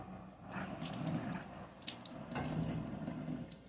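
Tap water runs steadily into a container being rinsed, with sloshing and splashing that swells and dips, close and fairly quiet.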